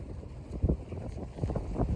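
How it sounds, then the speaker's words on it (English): Wind gusting by Lake Wingra in Madison, Wisconsin, rumbling low and steady into the microphone with a couple of stronger buffets, no talking. "Getting a little windy down by Lake Wingra here in Madison, Wisconsin."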